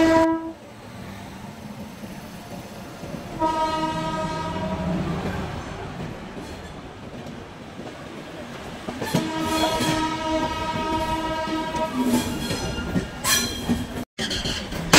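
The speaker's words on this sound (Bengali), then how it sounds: "দেখুন ট্রেন আমাদের প্ল্যাটফর্ম থেকে বের হওয়ার সময় কত ট্রেনের সঙ্গে যে ক্রসিং করে বের হচ্ছে" The Saraighat Express pulls out of Howrah station with several long horn blasts, crossing other trains on the way out. Wheels rumble and clatter steadily underneath, loud and close throughout.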